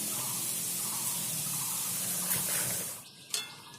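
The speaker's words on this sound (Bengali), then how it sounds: "এরকম ঘুরিয়ে ঘুরিয়ে বোতলটা একটু ঝাঁকিয়ে ঝাঁকিয়ে চারিদিকে দিতে থাকবো" Water from a shaken bottle is sprinkled over dough for namkeen bhujia, making a steady close hiss of spray for about three seconds that then stops, followed by a brief knock.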